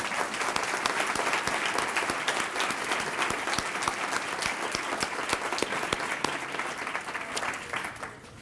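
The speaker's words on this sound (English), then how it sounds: "more round of applause for the Lincoln High School Jazz Band." A banquet audience at a 2015 Teacher of the Year evening gives a round of applause to the Lincoln High School Jazz Band. Dense, steady clapping from a full room holds for about eight seconds before easing slightly at the end.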